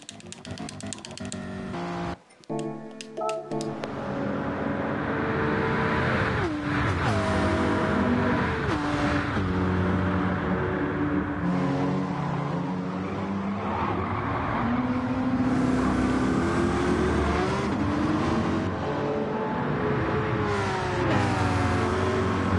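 Race cars in a GTWS Manufacturers Cup video game, engines revving and shifting through gears close behind as cars overtake, a continuous loud drone with rising and falling pitch.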